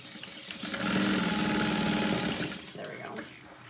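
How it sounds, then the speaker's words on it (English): Sewing machine stitching a fabric pouch close to a zipper, a steady mechanical whirr with a fine rapid rhythm running loud and near for about two seconds, then trailing off. "make sure you're not sewing through your zipper"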